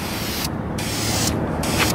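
Bursts of aerosol spray paint hiss onto a car mirror part being refinished, three close, loud sprays separated by short pauses, with no talking.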